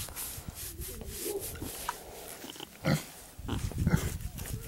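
A pig receives a belly rub and answers with soft, close grunts and snuffles amid rubbing noises, while a person talks now and then.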